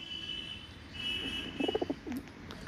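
Pigeons coo in a brief burst of rapid, throaty pulses followed by one drawn-out coo, moderately close, over a quiet background with a faint high whine.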